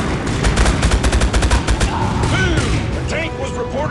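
Video game gunfire, rapid automatic bursts in a fast regular rhythm, then scattered shots and impacts, loud and close as a voice talks over the end.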